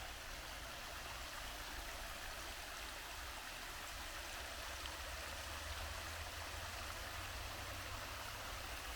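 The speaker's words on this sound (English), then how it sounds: "There's the little cascadey waterfall." A steady rushing of falling water fills the air, a constant broadband roar from a small cascade at the end of a lake in Hagley Park, with no voices.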